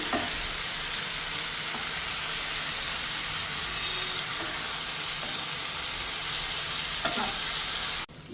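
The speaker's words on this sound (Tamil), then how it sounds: "கத்திரிக்காய் நல்லா வணக்கிக்கணும். இதில் எண்ணெயில் ஃப்ரை பண்ணணும்." Thin slices of brinjal frying in oil in a pan, a steady close sizzle with occasional stirring clicks and scrapes, ending with a brief clatter.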